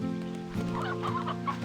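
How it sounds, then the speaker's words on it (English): Hens clucking in the video game Slime Rancher 2, a few short close clucks over a steady low tonal game background, with no talk. "Let's get some of these wild chickens"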